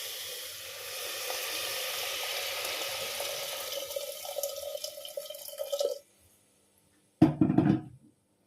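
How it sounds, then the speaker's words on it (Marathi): Hot water poured into a pot of dal premix vegetable soup, a steady splashing stream that tapers and stops, followed after a pause by a brief, louder splash or clatter. "आता आपण गरम पाणी टाकूया."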